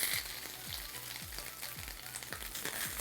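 Samak rice and potatoes frying together in a pan for a Navratri fasting upma, with a steady close sizzle broken by rhythmic spatula scrapes roughly every half second.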